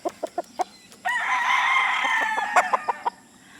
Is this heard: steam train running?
no